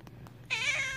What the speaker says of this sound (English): This might very well be the epitome of foul cat language.